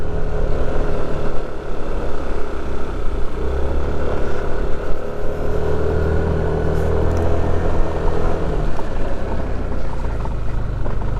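A motorcycle engine labors steadily up a steep mountain road in the Sierra Madre, its loud, continuous drone close and unbroken throughout.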